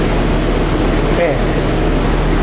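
A 26-year-old Jeep Cherokee XJ engine runs at a steady idle, a constant loud low hum and broadband rumble with no change in pitch.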